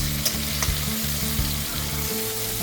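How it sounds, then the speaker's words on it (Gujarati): Tomatoes fry in oil with onion and garlic for a Kathiyawadi-style chole gravy, making a close, continuous sizzle with faint crackles and no speech. "ટમેટા તળશે ત્યાં સુધી એકદમ તળવા દેવાના ટમેટાને"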